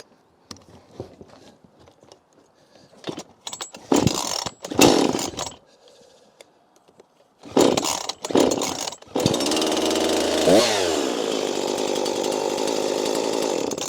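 A small carbureted engine with a chainsaw-like sound is started by hand: scattered knocks and pull-cord rasps give way to sputtering bursts, then the engine catches and runs in a steady, loud, buzzing idle.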